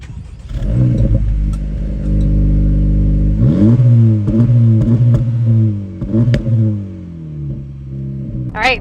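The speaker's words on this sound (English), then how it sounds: "It makes some nice crackle and pop sounds in Sport Plus mode" A 2024 Acura Integra Type S in Sport Plus mode revs loudly and close, its engine note rising and falling through several sweeps, with crackles and pops between revs.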